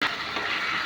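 Mutton frying with onions in a pan gives a steady, close sizzle with soft hissing through the whole brief moment, no voices.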